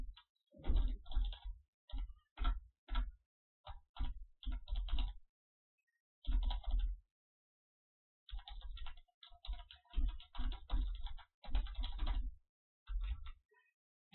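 Computer keyboard being typed on while writing Java code, with bursts of quick close clicks separated by short pauses.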